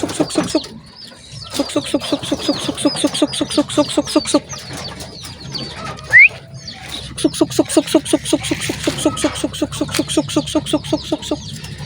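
A flock of pigeons coos and burbles in dense, rapid repeating calls close by, with a short burst of fluttering partway through.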